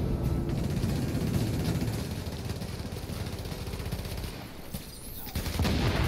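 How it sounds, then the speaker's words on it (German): Rapid bursts of automatic gunfire from The Division in a dense, continuous barrage with engine-like rumble beneath, staying loud throughout the stretch. "weil ich schieße die ganze Zeit aus der Entfernung hier auf"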